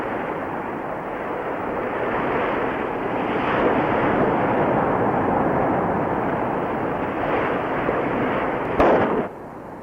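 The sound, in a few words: big firecrackers exploding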